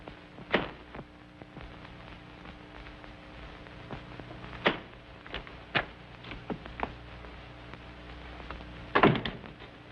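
Scattered sharp metallic clacks and thuds of a well-oiled door bolt and lock in a 1930s crime film, spaced irregularly over a steady hissy background with no speech.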